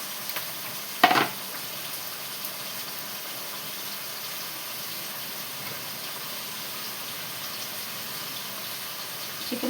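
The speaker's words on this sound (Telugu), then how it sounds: "ఆనియన్స్, ఉల్లిపాయలు, కొత్తిమీర, కరివేపాకు వేసాను. అవి కొంచెం వేగుతూ ఉంటాయి." Onions, coriander and curry leaves fry gently in a kitchen pan with a soft, even sizzle that runs throughout, broken by a single utensil clack early on.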